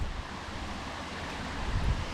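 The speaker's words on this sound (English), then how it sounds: "You can hear the water running." Running water in a creek near Stanley, Ontario rushes steadily as a dense, close, continuous wash, mixed with some wind buffeting on the microphone.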